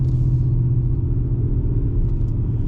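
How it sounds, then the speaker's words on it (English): Cars rumbling at a drag racing track, a loud, steady low engine drone from nearby vehicles idling and moving, continuous with no talk. "a whole bunch of badass cars out"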